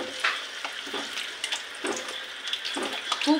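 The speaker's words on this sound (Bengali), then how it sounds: "খালি তেলে ভাজি করে নেব।" Potato pieces frying in plain oil for kacchi biryani, giving a steady close sizzle with scattered crackles and pops, no voices over it.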